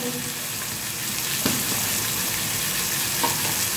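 Cumin and coriander powder sautéing in a pan for a cauliflower curry give off a steady close sizzle, with a couple of brief utensil scrapes as the spices are stirred.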